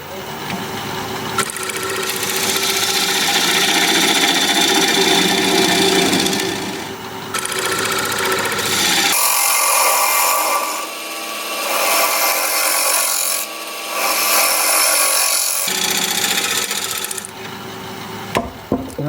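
Wood spinning on a lathe while a tool shear-scrapes the surface, a loud continuous hiss and rumble that drops out briefly twice before resuming.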